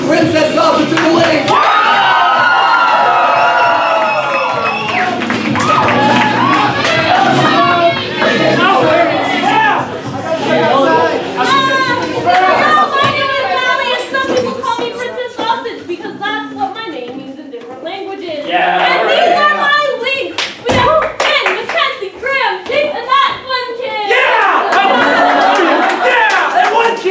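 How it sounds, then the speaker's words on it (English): A crowd cheers and shouts loudly, with children's whoops and excited chatter rising in waves, dipping briefly before swelling again. "you big round of applause, Princess Sausage of the Lake!"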